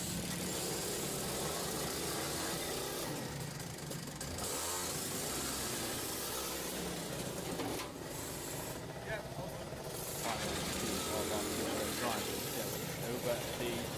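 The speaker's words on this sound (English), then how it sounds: "In the background, our final race of the day makes its way out of the dummy grid" Race cars pull out of the dummy grid at a Teesside owner-driver sprint meeting. Their engines idle and rev steadily in the middle distance while a commentator talks over them.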